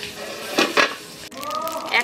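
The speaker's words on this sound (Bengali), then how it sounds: "আট মিনিট পর ঢাকনা খুলে দিচ্ছি।" A lid comes off a pan of bhetki fish paturi frying on the stove, giving two quick clattering knocks close by, followed by a softer sizzle as a voice starts talking.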